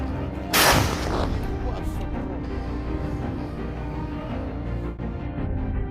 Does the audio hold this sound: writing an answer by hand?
no